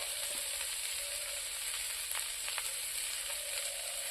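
Khuder bhaat ingredients with salt and a little turmeric frying in a pan, a steady close sizzle with faint scattered ticks and stirring clicks, no voices.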